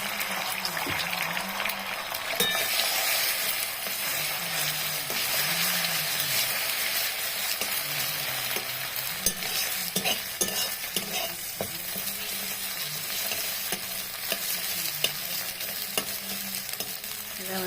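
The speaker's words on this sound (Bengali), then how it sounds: "আমি একটা কড়াই বসিয়ে দিয়েছি, তেল গরম হয়েছে" A chicken egg sizzles steadily in hot oil in a kadai while a utensil stirs and scrapes the pan in an irregular rhythm, close up.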